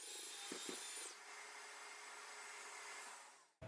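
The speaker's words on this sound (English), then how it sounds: "you just pull the trigger and start moving the sander" A belt sander runs across wood with a steady, close, high-pitched whir and abrasive hiss, two brief dips early as it shifts, then a fade before cutting off near the end.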